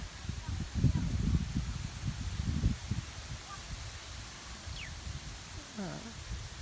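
Gusty wind buffets and rushes through leaves at a rice-farming village in Thailand, strongest at first, then settling into a steady rustling hiss with a couple of faint bird chirps.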